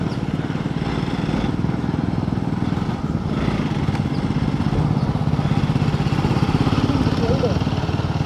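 A motorcycle, a Royal Enfield Himalayan 450 or Hero XPulse 200, rides a wet, muddy forest off-road trail with its wheel skidding; a steady, close engine drone runs throughout with no pauses.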